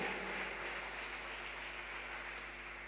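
A church congregation applauds steadily, a faint, even patter of many hands that fills the room throughout without a break or any voice.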